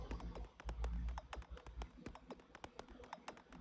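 Minimal house percussion loop in Ableton run through an LFO-driven pitch shifter and Erosion bit crushing, giving a busy stream of sharp, clicky hits over a low throbbing pulse with gritty, wavering tone, steady and up close, no voices.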